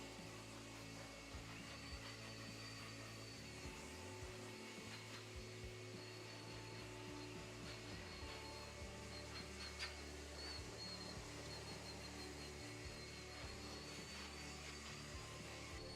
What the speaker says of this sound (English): Start out on the low just in case your dog doesn't like the noise of the blow dryer.